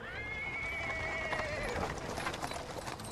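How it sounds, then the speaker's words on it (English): A cart drawn by a small horse rolls over paving stones, with steady clip-clop of hooves, a whinny and dense rattling wheel noise throughout, fairly close and continuous. "Interrupted by the sound of wheels rolling on the paving stones, a cart drawn by a sad little horse, appears from around the corner."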